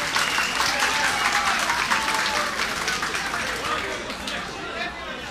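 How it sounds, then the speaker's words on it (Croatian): Applause from an audience at a community gathering of Bosnian diaspora in Chicago, honoring two musicians; dense, steady clapping with crowd noise that fades slightly toward the end. "pozdravite njih dvojicu aplauzom"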